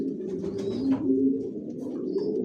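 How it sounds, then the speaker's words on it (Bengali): Johnson racing pigeons in a loft give steady overlapping low coos, a continuous close murmuring chorus with a few faint higher chirps above it. "সবাই কি লাইনের কবুতর পালি আমার লফটে, জনসনের অরিজিনাল রেসার।"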